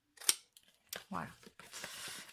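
Scissors snip the corners of a paper envelope-kit box: one crisp close snip, then a few quieter crunching cuts through the paper, all soft and near.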